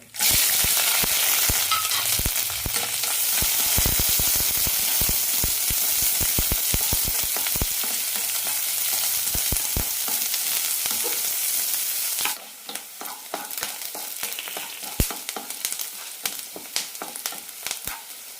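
Mustard seeds, curry leaves, onion and red chillies hit a tablespoon of hot oil in a pan for a jackfruit seed and egg stir fry, giving a loud steady sizzle with crackling pops that fades to quieter spattering midway.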